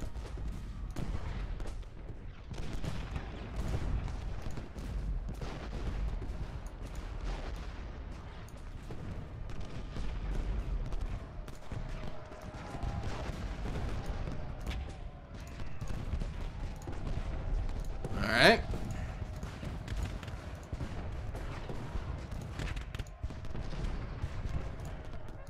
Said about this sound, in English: get ready for some more shelling